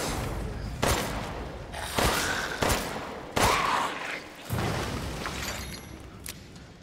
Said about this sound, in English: I'm using a lot of handgun ammo here.